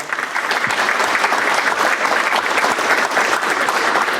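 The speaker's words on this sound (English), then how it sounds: "a big round of applause" A school board meeting audience gives teachers, students and their families a big round of applause: loud, dense clapping from a crowd that continues steadily for about four seconds with no voices over it.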